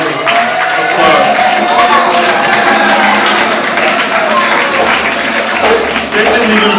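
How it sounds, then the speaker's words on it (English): A crowd at a Kwanzaa Imani Night community program bursts into loud, sustained applause and cheering, a dense wash of clapping that holds steady throughout with voices mixed in. "Give them another round of applause."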